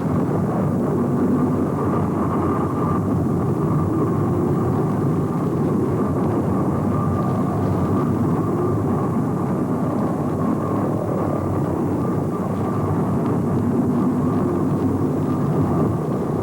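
A B-24 bomber taxis at the Willow Run factory airfield, giving a steady, loud propeller-engine drone and rumble throughout, with no voices.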